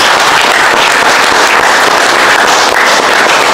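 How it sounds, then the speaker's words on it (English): A big round of loud, dense audience applause fills the hall at the start of a session, continuous broadband clapping close up and without any talk over it. "Big round of applause."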